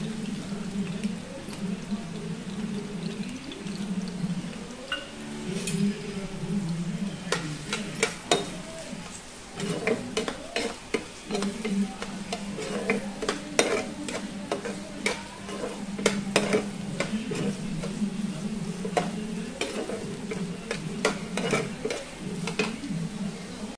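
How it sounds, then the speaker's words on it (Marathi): Chopped onion sizzles steadily in hot oil in a home kitchen, a continuous frying hiss with scattered clinks and scrapes of a spoon stirring against the pan, no voice over it. "तेल चांगलं तापलेलं आहे। आता आपण ह्याच्यामध्ये कांदा घालून घेऊया।"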